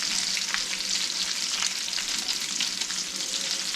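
Swedish meatballs fry in a skillet with a dense, steady, close sizzle and a few soft crackles, continuous and without talk.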